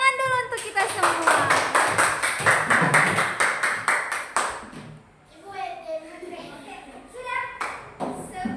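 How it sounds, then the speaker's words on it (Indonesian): A group claps hands together in a rapid, loud burst that stops after about four seconds, followed by children's voices and talk. "Tepuk tangan dulu untuk kita semua."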